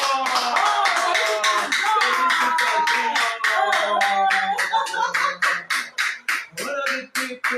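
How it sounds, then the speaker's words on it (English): An audience claps in a steady, rhythmic beat for a sponsor at an MLM business gathering, loud and close, with singing or chanting voices carried along over the clapping until it thins to a few separate claps. "I want everybody to clap for my sponsor, Mrs. Ifeoma John"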